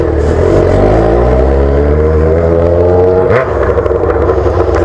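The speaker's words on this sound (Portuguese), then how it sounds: "o tesão dessa moto é o ronco" A motorcycle's four-cylinder engine roars loud and close at steady high revs, its pitch wavering, then dips sharply in a brief throttle blip before climbing back to a sustained roar.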